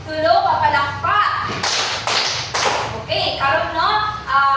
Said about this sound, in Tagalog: atagan nato si Jessa Grace og tulo ka palakpak